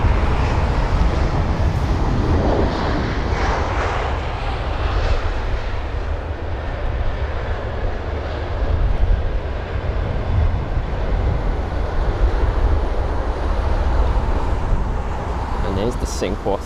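A Singapore Airlines A380 taxiing at Heathrow makes a continuous low jet rumble and whine at fairly close range, with a voice talking faintly over it.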